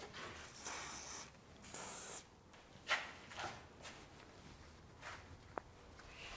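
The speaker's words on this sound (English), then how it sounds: "silicone spray." Short bursts of silicone spray hiss onto a BMW E46 330i control arm in a garage, several brief puffs spaced apart with faint handling noises and a small click between them.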